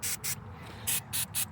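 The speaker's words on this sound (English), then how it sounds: "So what I'm gonna do, I'm gonna spray on our areas" Tar remover is sprayed from a trigger bottle onto a vehicle's paint in a series of five quick hissing bursts, close and crisp, each lasting a fraction of a second.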